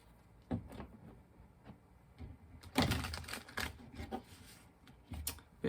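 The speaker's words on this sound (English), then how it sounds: "Let's do some initial shuffling." Tarot cards are shuffled close up, with soft riffling bursts and light taps coming in irregular clusters, quiet with no voices.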